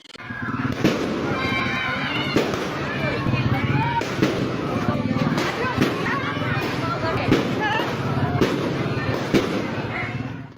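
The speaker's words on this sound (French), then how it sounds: "une personne filmait l'ambiance festive et les feux d'artifice illuminant le ciel" Fireworks crackle and pop continuously, with sharp bursts punctuating a dense festive din and voices in the crowd underneath.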